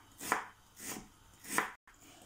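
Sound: finely chopping onion

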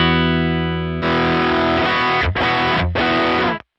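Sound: electric guitar overdrive tone through a modeler

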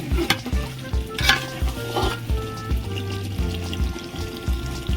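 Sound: mutton curry being sautéed in a pan

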